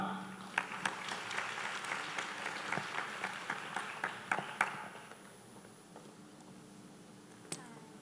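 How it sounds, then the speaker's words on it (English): An audience at the Vietnam Swiss Innovation Challenge 2025 final gives scattered, sparse applause, with distinct individual claps that fade out after a few seconds. A single clap follows later amid room quiet. "And now please give a big round of applause to welcome to the stage,"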